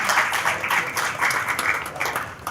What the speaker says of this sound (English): Let's give a big clap from them.